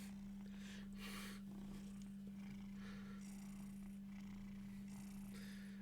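A pet cat named Mystique purrs steadily and close by, a continuous low rumble running unbroken through the whole stretch with soft breathy textures layered above it.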